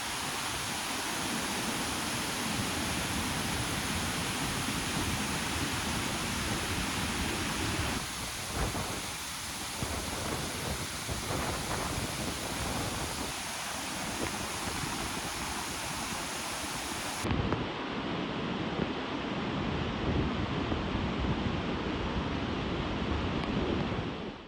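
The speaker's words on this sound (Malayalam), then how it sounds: "വെള്ളച്ചാട്ടത്തിൽ ഇറങ്ങി നിൽക്കുന്ന സൗണ്ടാണ് കേൾക്കാൻ പോകുന്നത്." Punnayar waterfall in Idukki heard from its base, a dense, continuous roar of crashing water like heavy surf, loud and unbroken throughout with no voices.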